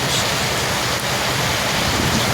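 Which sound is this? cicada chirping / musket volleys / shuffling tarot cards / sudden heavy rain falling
sudden heavy rain falling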